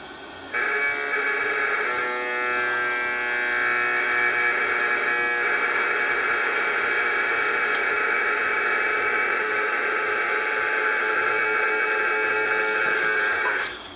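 TIG welding on a rusty mild steel dump pipe, a steady continuous buzzing hiss with a constant electrical hum, running without a break for most of the stretch, close and fairly loud with no talk.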